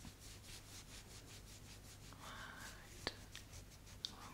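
Nail file rubbing over fingernails to take off leftover varnish, a quiet, close, steady scratching with rhythmic strokes and a couple of small clicks.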